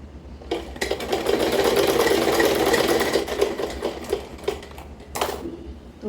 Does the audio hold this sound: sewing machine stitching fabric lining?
yes